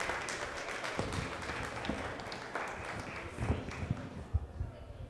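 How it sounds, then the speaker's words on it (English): Audience applause at a cannabis security conference session: a moderate clapping crowd with scattered, uneven hand claps, fading somewhat and leaving a few louder individual claps and knocks toward the end. "And a big round of applause for Gary and Jennifer."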